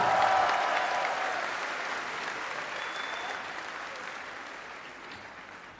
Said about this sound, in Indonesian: Boleh dong kasih tepuk tangan yang meriah buat Zia.